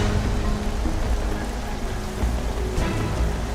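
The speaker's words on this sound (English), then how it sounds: "It didn't stop raining for very long" Steady, dense rain pours down on a monsoon expedition in Africa, a constant close hiss with faint low rumbles beneath and no talking.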